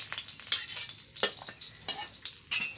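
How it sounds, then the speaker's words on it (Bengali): Meat spiced with turmeric and chili frying in hot oil in a village kitchen, a steady close sizzle broken by repeated stirring scrapes. "মাংস মাখা হয়েছে হলুদ মরিচ দিয়ে ভেজে রাখছি"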